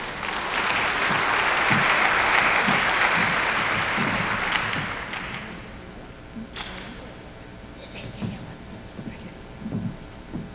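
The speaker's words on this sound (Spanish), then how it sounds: "Les pido un fuerte aplauso para ella." An audience at a scientific conference on metabolic syndrome breaks into loud, dense applause for a speaker, sustained for about five seconds before thinning into scattered claps and murmurs, with faint talk near the end.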